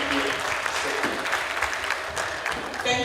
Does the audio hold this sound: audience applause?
yes